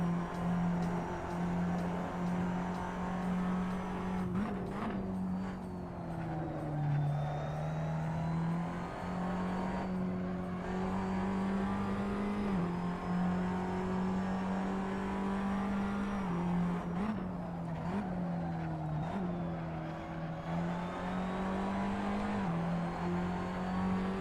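Race car engine from the racing game Assetto Corsa Competizione, a continuous loud droning engine note that rises and drops with gear shifts and throttle changes over a long steady run.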